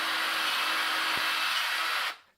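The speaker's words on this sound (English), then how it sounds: "drilling a pilot hole." Power drill boring a pilot hole during airsoft gun bolt preparation, a steady loud whirring grind lasting about two seconds before cutting off abruptly, with no talking.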